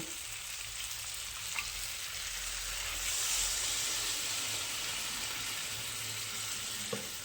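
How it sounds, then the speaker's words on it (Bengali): Two bowls of water poured into a hot pan of puti fish curry with potato and eggplant, setting off a steady close sizzle that swells into a louder hissing surge midway, then settles back. "এখানে বাটি মেপে দু বাটি জল দেব"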